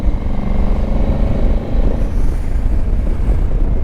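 Honda Africa Twin motorcycle fitted with ADV2 tyres, riding along on a lone ride: a steady engine drone and road rumble with wind buffeting the microphone, continuous and fairly loud with no break.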